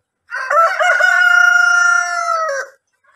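A Brahma or Rhode Island Red rooster gives a single loud, close crow lasting about two seconds. It rises, holds, then cuts off into silence.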